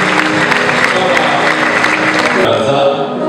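A church congregation claps for God during a service, steady dense applause that fills the space, then drops to a softer crowd murmur near the end, with voices mixed in.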